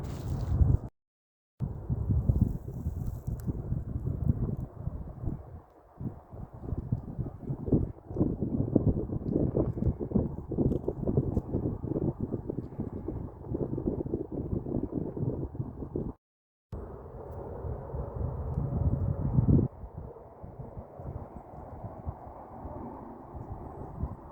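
Strong wind rushes over dry grass outdoors, a steady broadband roar with microphone buffeting that continues for most of the stretch, broken by two brief silent cuts.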